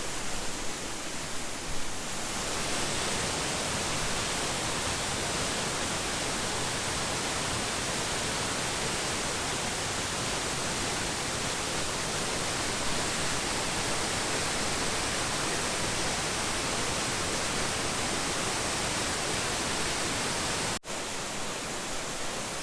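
A massive, intense waterfall on an Arrowhead day hike in Minnesota roars as a loud, steady, unbroken rush of falling water close by, filling the whole scene with dense noise.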